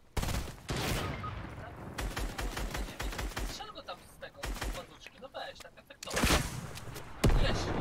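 Rapid bursts of gunfire from a Fortnite match, with loud shots and volleys crackling in clusters alongside thumps, while players talk excitedly over the action.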